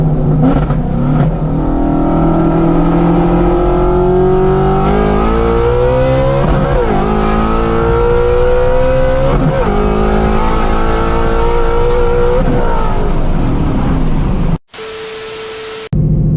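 A fast car accelerates hard and revs, its engine pitch climbing steadily through several gear changes over loud, close road and wind noise, then cuts off abruptly near the end.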